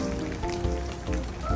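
Meltwater from snow dripping off trees on a cold November morning patters steadily like rain, a dense close-up drizzle of drops with no voices.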